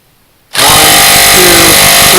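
A Dewalt cordless impact driver hammers hard on a nut. After a brief silence it bursts in loud and close, then keeps up a dense, continuous rattling clatter with no voices over it.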